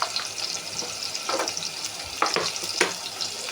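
Spices and long beans fry in a pan under a low sizzle, with spatula scrapes and stirring clinks landing every second or so; no speech.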